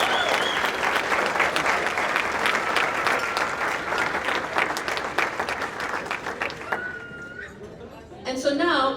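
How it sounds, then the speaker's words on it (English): Sustained applause fills a room at a community radio station's 40th anniversary celebration, dense and steady before fading, then a few voices and scattered sounds at the end. "let's just give one more round of applause to the folks who really made it happen in the early days"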